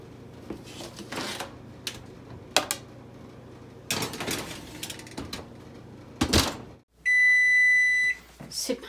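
An oven timer set for fifteen minutes while baking spring rolls gives one sustained electronic beep near the end. Before it come kitchen clatter, knocks and a nearby voice speaking.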